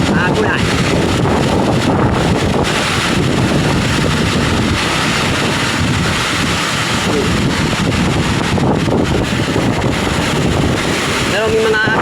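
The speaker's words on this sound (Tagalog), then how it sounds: "Lakas na po ang hangin, ulan." Strong wind and rain lash a street in Aklan, a loud, steady roar of gusts buffeting the microphone with rain noise throughout, and a voice speaks over it.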